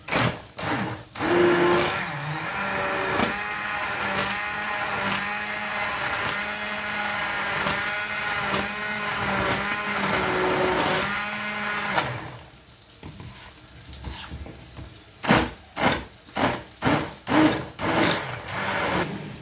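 Electric mixer grinder blending cooked masala into a thick paste for a fish gravy, a steady loud whirring drone for about twelve seconds, then cut off and followed by several short pulsed bursts.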